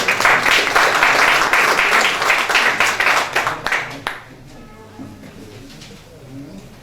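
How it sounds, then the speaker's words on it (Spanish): Audience applause welcoming a speaker at a talk on Amazonian fish research, with dense clapping for about four seconds before it quickly thins out and gives way to quiet room sound and a few faint voices. "lo recibimos con un fuerte aplauso"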